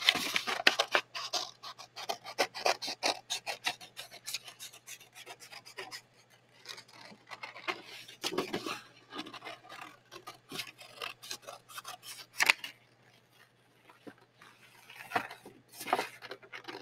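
Scissors snip and rasp through paper while a bear shape is cut out, making irregular close crunching cuts in short bursts separated by brief pauses.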